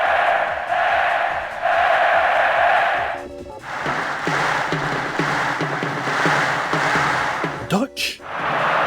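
A stadium crowd in the video game Pro Evolution Soccer 6 roars and chants in surging waves, a broad sustained cheer that rises and falls with a sharper burst near the end.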